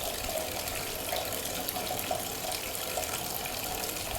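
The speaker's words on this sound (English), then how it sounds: "I think now the bucket is halfway filled, and I can feel a change in this sound." Tap water pours steadily into a half-full bucket, a continuous close rushing splash with a slightly brighter, sharper tone, no voices.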